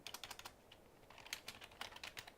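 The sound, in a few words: typing on a computer keyboard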